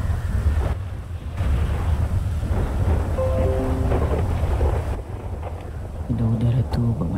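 Thunder rumbles through a storm with rain, a continuous low roar and crackle filling the scene, while people talk and murmur nearby.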